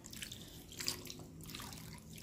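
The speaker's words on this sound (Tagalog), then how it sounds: "Lagyan po natin ng tubig syempre." Water being poured into a cooking pot of fish: a soft, splashy trickle with faint drips, quiet and close, lasting about two seconds without speech.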